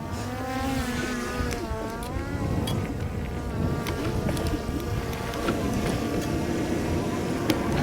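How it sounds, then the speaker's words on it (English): A Skydio 2 drone buzzes steadily while tracking an e-bike ride, its whine shifting in pitch as it follows, mixed with wind and road rumble throughout. "I can't believe that drone's keeping up going backwards like that."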